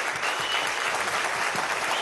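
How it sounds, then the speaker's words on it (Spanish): Studio audience applauding young performers on a Venezuelan presidential TV program, dense steady clapping throughout, loud and close, with faint voices underneath. "Así un aplauso, presidente, a esta muchachada"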